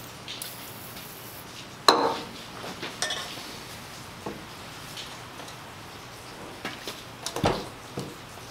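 Rotex rotary punch cutting a half-inch hole: a sharp metallic clack followed by several lighter taps and clicks spread out, with a final thud near the end, in a quiet workshop.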